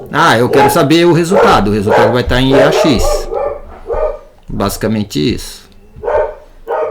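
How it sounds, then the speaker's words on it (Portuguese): Dogs bark and yip in the background under a man's steady, loud talking, with the barks rising through and between his words. "E vocês vão ouvir uns cachorros latindo"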